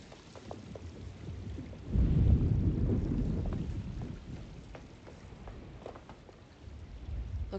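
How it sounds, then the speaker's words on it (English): A thunderstorm in the video game Alone in the Dark: steady rain hisses throughout while a deep roll of thunder swells in the middle, then fades back under the rainfall. "Looks like a storm's coming."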